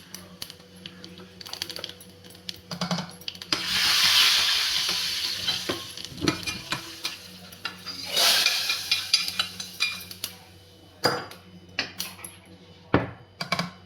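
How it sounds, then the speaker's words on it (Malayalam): Mustard seeds sizzle and splutter in hot oil for a Konkani coconut-milk curry, in two loud surges, with lighter crackles and occasional clinks of a utensil in between. "ഇനി കടുക് വറുത്തിടാം."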